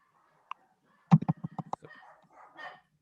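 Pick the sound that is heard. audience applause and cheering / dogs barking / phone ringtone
dogs barking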